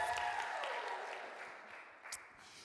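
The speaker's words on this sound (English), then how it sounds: "Let's give a round of applause to Nakia" Audience clapping for a panelist at a reproductive and birthing justice panel discussion, faint and fading out gradually with a brief sharper sound near the end.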